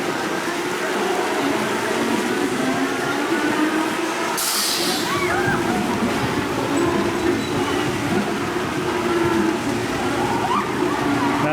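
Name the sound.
water spraying on a top spin amusement ride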